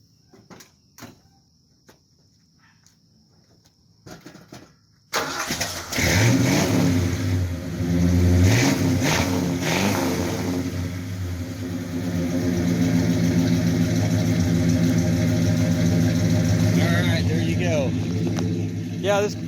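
A 1972 Ford LTD with a 400 big block V8 cranks and catches after a few quiet clicks, then idles and revs loudly with a deep, steady rumble that rises and settles, close up.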